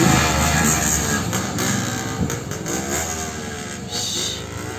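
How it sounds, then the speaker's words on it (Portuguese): A 50cc motorcycle engine drones loudly nearby for several seconds, a buzzing, fairly steady whine with slight rises in pitch as it goes by. "Aquela ali é motor de 50."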